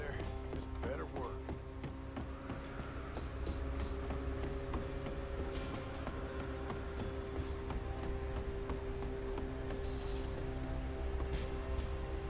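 A train approaches in the video game Red Dead Redemption 2, heard as a steady low rumble and mechanical clatter that carries on throughout under other game sounds.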